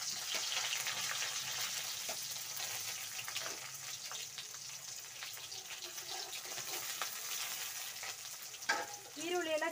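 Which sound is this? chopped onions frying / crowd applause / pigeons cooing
chopped onions frying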